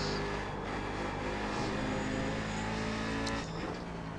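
A race car engine in the iRacing video game roars loud and steady, easing slightly as the throttle lifts, with a constant dense drone throughout and a brief dip near the end.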